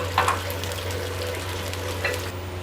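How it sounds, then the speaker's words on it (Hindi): Onions sizzling in oil in a pan for daal mash, a steady low frying hiss over a constant hum with a couple of short stirring scrapes. "ऑयल डालूँगी और इसमें मैं प्याज डाल देती हूँ। इनको हमने लाइट सा ब्राउन करना है।"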